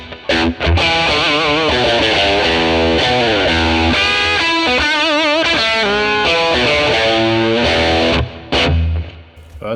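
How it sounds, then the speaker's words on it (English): A Telecaster electric guitar played through a ToneX model of a Fender 1957 Tweed Bassman amp, a loud, gritty, driven run of chords and sustained single notes that ends in a brief pause before a final strum. "All right, let's try this one with the Telecaster"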